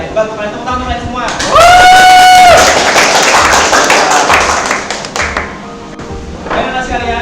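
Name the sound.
classroom students clapping hands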